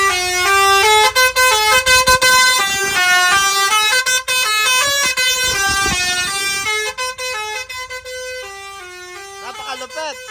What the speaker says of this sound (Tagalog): Mac, bigyan mo kami ng isang maiksing sound check dyan ng basuri na kinabit natin dito sa Fuso Super Great